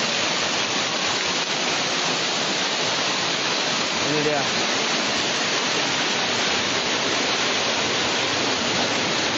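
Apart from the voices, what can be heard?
waterfall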